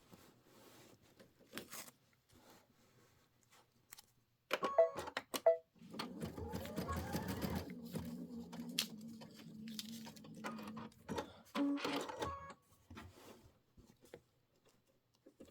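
Bat embellishments are stitched onto fabric by a Kimberbell embroidery sewing machine, a faint, quick mechanical whirring and clicking that hums steadily for several seconds between scattered small handling clicks.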